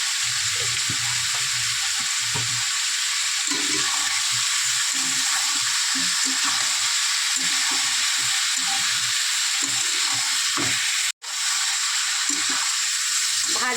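Chicken frying in a pan with ginger-garlic paste for chicken kosha, a steady loud sizzle with frequent scraping stir strokes throughout and a brief cut near the end.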